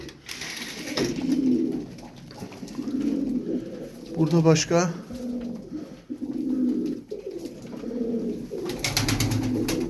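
Fancy pigeons of double-crest and double mirror-tail breeds coo in soft repeated low phrases, with bursts of wing flapping, close by, while someone talks intermittently over them.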